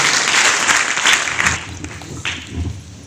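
An audience claps for a revered religious leader at a village puja ceremony, loud dense applause that gradually thins and fades toward the end.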